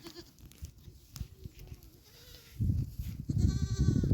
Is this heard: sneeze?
no